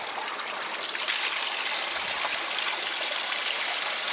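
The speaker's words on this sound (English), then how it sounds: "this water comes straight from the lake." Cold water flows from the lake beside the Ledeno ezero shelter in the Rila mountains, a steady, close splashing rush that continues unbroken.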